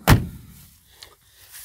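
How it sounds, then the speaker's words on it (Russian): The door of an Opel Record body converted into a trailer shuts with one loud, close thud, followed by a short quiet rattle and faint background noise. "Двери закрываются."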